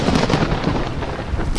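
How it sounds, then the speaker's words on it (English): Very close lightning strike during a massive thunderstorm, a loud sustained crackling rumble of thunder that fills the whole moment without letting up, no voices. "a gigantic lightning strike hits just feet away"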